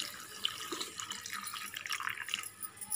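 Water running from a tap into a pressure cooker holding chicken gravy, a faint steady trickle and splash with a couple of small bright clinks.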